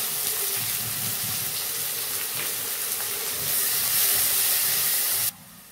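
Onion and garlic fry in oil, a continuous moderate hiss and sizzle that brightens slightly midway before dropping off near the end, with no talking.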